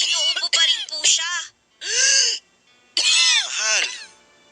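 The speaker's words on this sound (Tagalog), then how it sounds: "Sa tunog ng ubo mo mukhang masama na yan, ah." A woman coughs in harsh, throaty bursts: a rapid cluster, then two separate fits after short pauses, with strained, moaning tones. The cough is close and loud at home, and no one else speaks.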